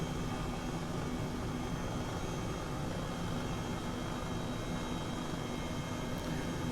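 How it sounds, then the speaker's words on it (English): Helicopter flying low in Microsoft Flight Simulator, a dense continuous rotor and turbine roar filling the whole stretch at a steady level with no talking over it. "it's a good thing we've got a helicopter for this, though"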